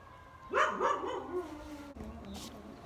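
A dog barks and yips a few times nearby, a short whining, bow-wow burst that tails off into quieter whimpering.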